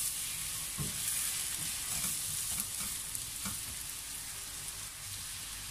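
Elbow macaroni soup with chicken bubbles quietly in a pot, and a spoon stirs it with a few soft scrapes and knocks over a low, steady simmering hiss.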